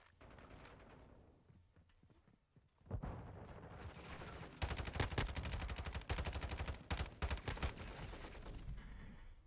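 Submachine gun fire in the Modern Warfare II multiplayer beta, bursts of rapid shots over a noisy game mix, building from quieter rumble to loud, dense gunfire near the end, with no speech.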